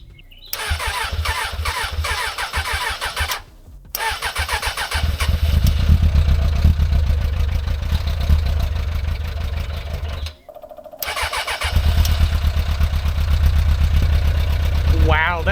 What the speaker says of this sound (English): So now, let's hear what it sounds like on a startup.